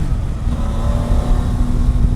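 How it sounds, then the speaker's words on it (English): A 2018 Triumph Tiger 800 XRt motorcycle cruises in sixth gear with a steady, even engine drone and rushing wind noise, loud and continuous, no talk. "Right now we're in 6 gear, and so far so good."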